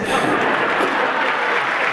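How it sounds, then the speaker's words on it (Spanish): Applause for a municipal president at a government report event, a brief burst of steady clapping from a gathered audience, dense and fairly loud, with faint voices mixed in. "Los aplausos abalanzan sobre el presidente municipal"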